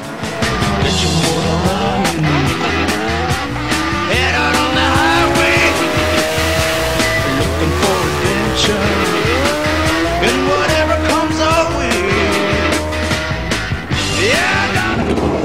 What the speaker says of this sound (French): Feu jaune, feu vert, t'accélères en grand, tu lâches l'embrayoir et t'attends le verdict du chrono.